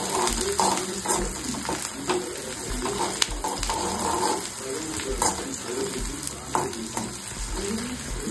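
Onions frying in oil in a pan for brinjal masala pulao, a steady close crackling sizzle with intermittent stirring scrapes and clinks throughout.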